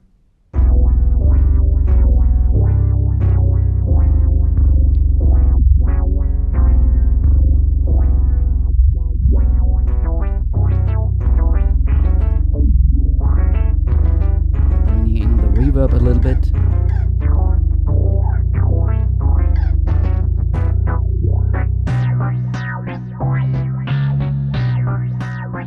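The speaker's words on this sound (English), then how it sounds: "So now let's hear the guitar." Guitar fed through a Behringer 2600 filter into its mixer: a loud run of plucked, resonant filtered notes and short phrases that grows brighter and busier, then settles into thicker tones at the end.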